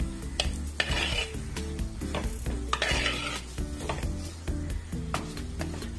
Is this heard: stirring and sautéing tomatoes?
yes